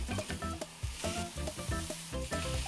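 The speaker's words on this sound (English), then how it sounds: "arrange the pineapple slices on the grill grate" Pineapple slices sizzle and crackle on a Fire Magic grill grate for tacos al pastor, a dense continuous frying hiss with close, repeated popping and scraping, and no talk.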